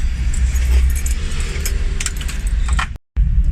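Car ignition key turned on during a no-crank, no-start diagnosis, keys jangling loudly and close over a low hum, ending in a brief dropout.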